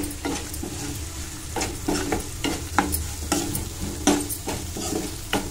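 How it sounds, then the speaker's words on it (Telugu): A pickle tempering of spices, curry leaves and turmeric fries in oil while being stirred, with repeated close scraping strokes over a steady sizzle. "పసుపు అన్నీ వేసుకొని మంచిగా ఫ్రై చేసుకోవాలి"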